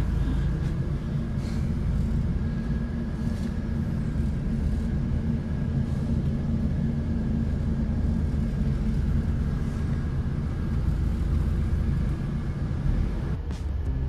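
Inside a moving bus on a Banyuwangi–Jember route, a constant low engine and road rumble fills the cabin with a steady rush of cold air-conditioning airflow, continuous and even throughout with no speech.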